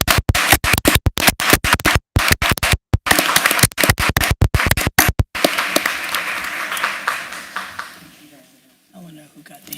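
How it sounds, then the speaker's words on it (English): Loud, dense applause from a crowd at a board of education meeting, sharp claps close by, then thinning out and fading to scattered claps and quiet by the end. "Can we give them a round of applause too as they're coming up?"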